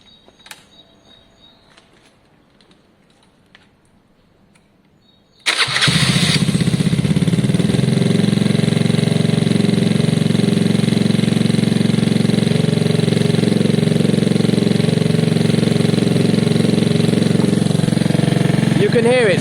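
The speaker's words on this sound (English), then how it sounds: "once started, I just want it to idle for a little while to kind of loosen itself up" A Gilera DNA 125cc fuel-injected scooter engine coughs into life after several seconds of quiet, then settles into a steady, loud, buzzing idle that runs on without a break.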